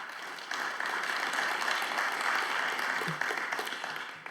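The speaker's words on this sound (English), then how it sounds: "Another round of applause for QuantOpticon and Dr." Audience applause at an award ceremony for a quantum startup pitch competition, a fairly soft, even patter of many hands clapping from a distance, steady for several seconds.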